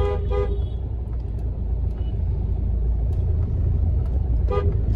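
Busy road traffic heard from a taxi crossing the street, with a steady low engine rumble and car horns honking in short bursts near the start and again near the end.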